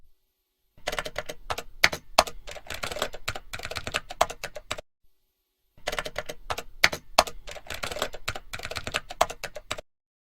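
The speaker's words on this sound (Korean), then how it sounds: "방금 불러온 효과음은 키보드에 자판을 치는 효과음이죠." Rapid keyboard typing in two bursts of a few seconds each, separated by a short silence, with busy irregular key clicks close up.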